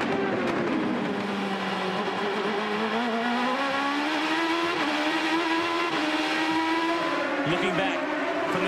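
2008 IndyCar Dallara race cars at the Australia street circuit scream through a sequence of curves, a continuous loud engine whine rising and shifting in pitch as they accelerate, with a commentator talking over the racing throughout.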